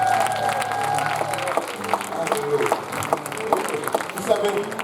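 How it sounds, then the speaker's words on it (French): Church congregation applauding during a special Father's Day service, scattered clapping over a murmuring crowd with some voices and musical tones underneath. "On va applaudir Daniela Chouan."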